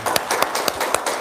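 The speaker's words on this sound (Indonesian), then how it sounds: "tepuk tangan dong" Several people clap their hands in a short burst, about eight sharp claps in a steady rhythm, close and moderately loud with no speech.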